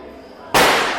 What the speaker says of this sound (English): there's a minor explosion.